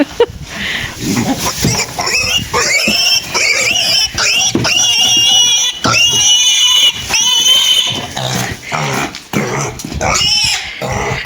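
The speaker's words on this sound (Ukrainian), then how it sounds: "Не продали ми сьогодні поросят Шевченкову." Loud, shrill piglet squealing, many overlapping shrieks and grunts that rise and fall continuously, close by.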